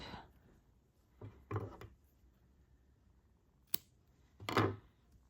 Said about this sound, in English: Then we give it a snip.